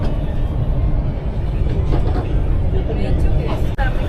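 Steady rumble of a metro train interior riding through Lima, with constant low-frequency rolling noise and faint murmuring passengers beneath it.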